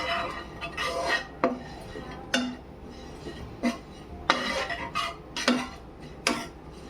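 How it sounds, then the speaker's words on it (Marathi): Grated coconut is stirred while dry-roasting in a pan, with a spatula scraping and clinking against the metal in irregular strokes, close and fairly loud, with no talk. "खोबरा ढवळून ढवळून व्यवस्थित"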